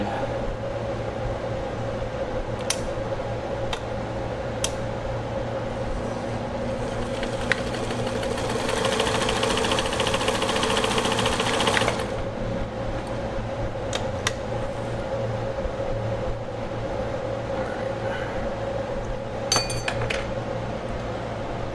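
A Brother Coronado sewing machine stitches a test seam, a steady mechanical whir that swells into a louder, faster run in the middle, with occasional sharp clicks and taps before and after.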